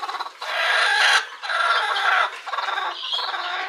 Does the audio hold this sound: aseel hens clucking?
yes